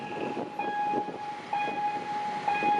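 A freight train hauled by a GE locomotive rolls past, a steady rumble with a sustained tonal whine and rhythmic wheel clatter repeating about once a second, fairly close with no voices.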